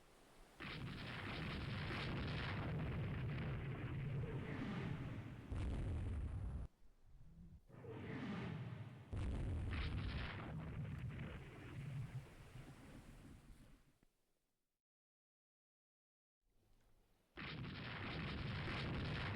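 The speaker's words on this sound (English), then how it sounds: "Zara fires 8 light guns at me." Light naval guns firing in a Rule the Waves 3 sea battle, loud booming volleys over a constant roar of surf and wind, with brief gaps and a short silence before the barrage resumes.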